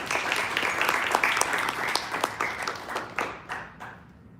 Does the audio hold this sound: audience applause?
yes